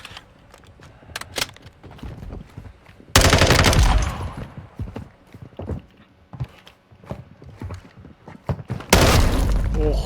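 Shotgun blasts in the multiplayer video game Modern Warfare 2: two loud, sudden booming shots several seconds apart, heard amid sparse gunfire and game noise.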